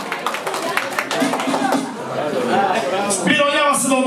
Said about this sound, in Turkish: Bir alkışlar var mı onlara?